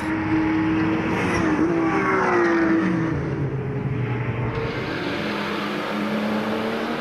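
Porsche race cars at the Nogaro circuit roar past in a steady, loud engine drone, with rising and falling pitch as cars accelerate and pass, heard from trackside.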